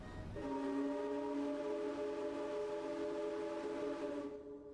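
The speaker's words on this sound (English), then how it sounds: "Let's have a listen to the whistle on this ship." A ship's steam whistle in the video game Ship Explorer blows one long, loud, steady harmonic blast for about four seconds, then cuts off abruptly, with no talk over it.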